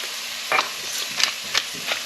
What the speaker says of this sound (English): let's stir this around for a couple of minutes